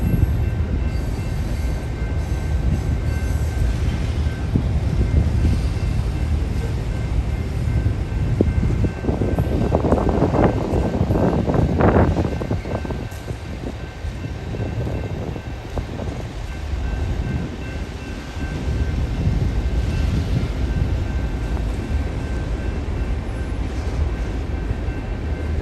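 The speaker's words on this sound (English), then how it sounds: "That is a mixed freight train." A Union Pacific mixed freight train of oil tank cars and grain cars rolls past in College Station, Texas, a steady low rumble with wind buffeting the microphone and a louder surge of wheel and car noise midway.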